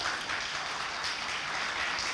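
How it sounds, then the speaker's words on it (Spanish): A church congregation claps in a steady, dense wash of applause, moderately loud and continuous for a couple of seconds with no voices over it. "Denle un aplauso a DeJoy"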